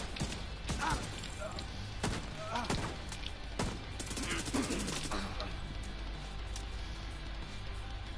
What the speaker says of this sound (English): The SMGs are quite cool guns